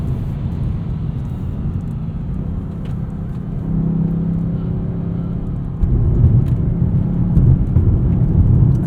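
A 2020 BMW M8 Competition drives with its exhaust in the loudest mode, giving a steady low engine and exhaust drone heard from inside the car that swells partway through and grows louder near the end, with no talk over it.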